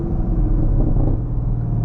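Steady low exhaust rumble from a 2024 Chevy Camaro SS Collectors Edition, loud and close, holding an even idle-like drone with no voices.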